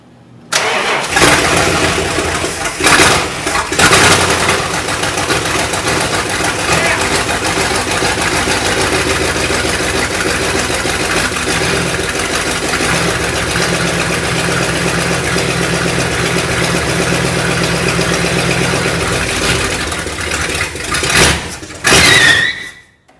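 A 1965 Imperial LeBaron, long abandoned and being restored, cranks and catches, then idles loud and steady close by for about twenty seconds before shutting down; no talking.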